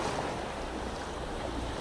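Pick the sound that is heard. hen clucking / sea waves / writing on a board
sea waves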